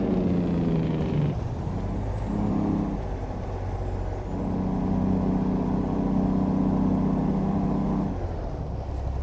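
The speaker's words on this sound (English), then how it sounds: "A little bit more engine brake because why not?" Freightliner Argosy truck in American Truck Simulator, its engine brake droning loud and steady with a deep rumbling roar that rises and falls in pitch as the brake cuts in and out.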